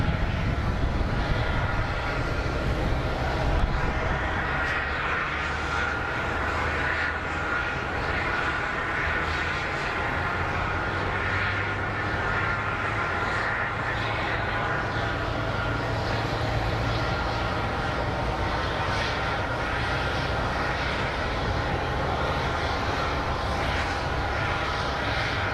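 Jet aircraft engines roar in a steady, broad rumble at Phoenix Sky Harbor International Airport, a continuous loud wash of engine noise lasting the whole stretch with no talking.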